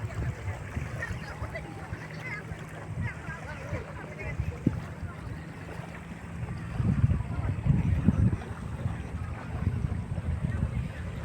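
Boats move on the water at a park lake, heard as a faint, steady wash of water and wind rumble with a slightly louder stretch near the end, and people talking in the background.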